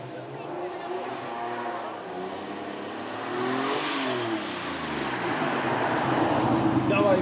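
A BMW with a front-mounted straight-six making 380 bhp, no ABS or traction control, drives at a supercar weekend, its mid-pitched engine note building and swelling under steady commentary, with road and crowd noise around it.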